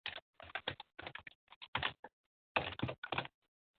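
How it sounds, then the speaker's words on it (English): Typing on a computer keyboard, close bursts of quick key clicks with short pauses between runs, alone without voices. "So I'm typing something like on the top here."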